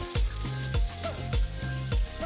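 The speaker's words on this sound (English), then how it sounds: "and then just fry them in oil" Food sizzling and frying in hot oil, steady crackle with a few louder bursts at regular intervals, close and alone with no talk.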